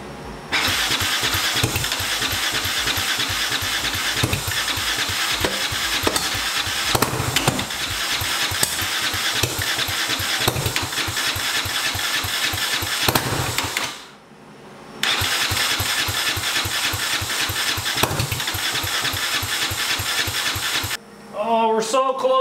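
Turbocharged EFI 660 lawnmower engine cranks loudly and repeatedly, trying to fire, in a long rhythmic starter grind broken by a brief pause around fourteen seconds and another stop near the end, with a voice heard briefly.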